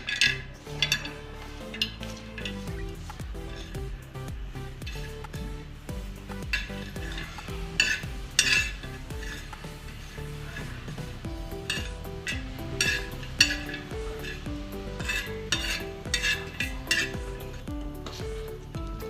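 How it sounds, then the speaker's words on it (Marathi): Dry coconut roasting in a kadhai for a stone-ground masala chicken curry, a steady faint sizzle with frequent metallic scrapes and clinks of a spatula stirring against the pan. "आपण आता खोबरं भाजून घेऊ"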